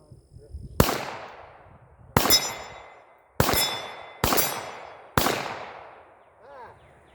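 Five sharp, loud Glock 34 pistol shots ring out against steel targets at an outdoor range, spaced roughly a second apart, each with a long ringing decay.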